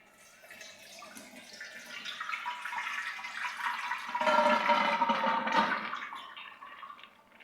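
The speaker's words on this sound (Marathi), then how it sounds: "डाळ एक ते दोन वेळा चांगली स्वच्छ धुवून घ्यायची आहे मी डाळ धुवून घेते" Soaked dal lentils being rinsed in water, with a steady swishing and pouring wash that builds to a louder stretch midway before tapering off, close and without talk.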